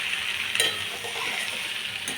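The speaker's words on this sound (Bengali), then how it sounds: "মুড়োটা দিয়ে ভালো করে মুড়োটা কষা হয়ে গেছে" A fish head fries in hot oil with onion, ginger and garlic, giving a steady close-up sizzle and hiss with a couple of brief stirring scrapes.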